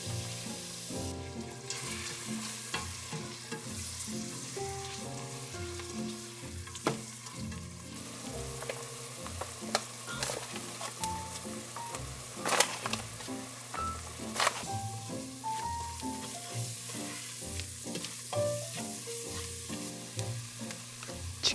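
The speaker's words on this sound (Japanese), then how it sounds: "玉ねぎを入れる。" Onion frying in butter in a pot, a soft steady sizzle with occasional stirring scrapes, quiet and close with light background music and no talk.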